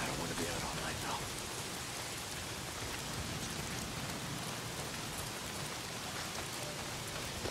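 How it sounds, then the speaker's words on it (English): Heavy rain pours steadily in the post-apocalyptic open-world game Days Gone, a dense, continuous outdoor downpour hissing on surfaces throughout, loud and even with no pauses. "Well, not if it's pissing down rain."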